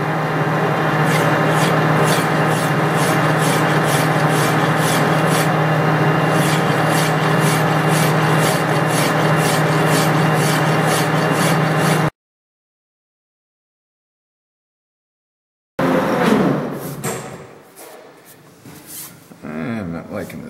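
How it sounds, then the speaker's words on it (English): Metal filing on an etching press handwheel, a steady rasping scrape with regular strokes for about twelve seconds, then silence, followed by louder handling noise and rustling. "let's try a little filing here"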